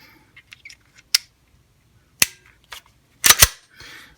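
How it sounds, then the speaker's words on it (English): A Ruger Security-9 pistol is put back together, giving sharp metallic clicks and snaps: scattered light ticks, then a few louder cracks, ending in a quick double snap close to the mic. "let's go ahead and reassemble the pistol completely"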